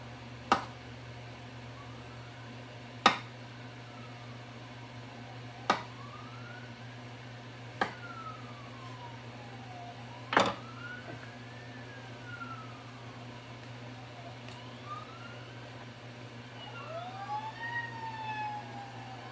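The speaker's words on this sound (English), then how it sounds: "A bunch of sirens outside." Distant sirens wail with rising and falling tones over a steady low hum, punctuated by a few sharp knocks nearby, the sirens growing busier toward the end.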